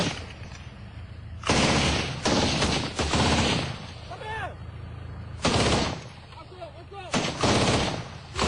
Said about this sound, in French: soudain, un coup de feu est tiré dans leur direction